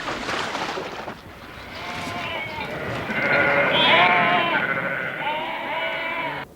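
A flock of sheep bleats loudly and continuously in overlapping, wavering calls out in the high country hills, one voice rising clearly above the crowd.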